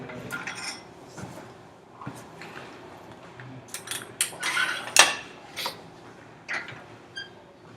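Metal weight clamps clink and clatter as they are fitted onto a loaded barbell in a gym, a series of close metallic knocks and rattles with a sharper cluster midway.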